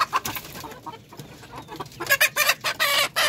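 Native Darag chickens cluck nearby in a farm setting, with short irregular bursts of clucking and squawks that grow louder and busier toward the end, with no talk.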